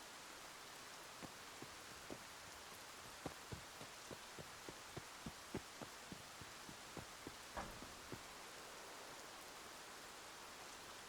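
Rain falls in the Escape from Tarkov video game as a steady, even hiss, with regular soft low thuds pulsing through it and no speech.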